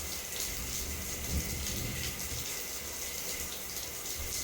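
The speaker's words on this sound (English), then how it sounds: "we're starting strong with a full-blown monsoon shower in the bathroom" A heavy monsoon-style shower pours water steadily in a bathroom in Langkawi, Malaysia, a loud, continuous hissing spray that stays even throughout, with no voices over it.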